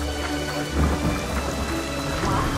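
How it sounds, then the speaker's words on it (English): Rain falls steadily in Fable The Lost Chapters, with a low rumble of thunder rolling beneath a dense, loud hiss of drops, and no one talking. "Now it's raining."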